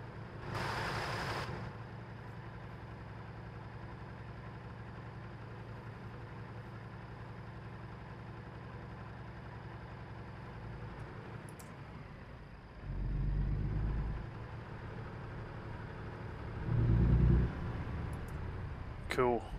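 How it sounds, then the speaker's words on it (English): A company-driven delivery truck engine idles with a low, steady rumble, then revs up twice in short surges of acceleration near the end, heard from inside the cab. "if the engine sound is loud enough"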